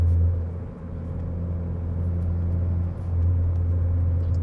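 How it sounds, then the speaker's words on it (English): Steady low drone of a Ford Focus ST with an Accelatec 3-inch stainless steel cat-back exhaust cruising on the highway at about 65 mph, a continuous even rumble heard from inside the cabin with no talking. "We're cruising on the highway, we're doing like 65."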